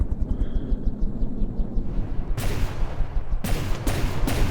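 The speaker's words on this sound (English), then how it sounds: "one of the cannons was just firing at it" Cannons fire in the naval combat video game From the Depths, a few heavy booming blasts in quick succession over a constant low engine rumble.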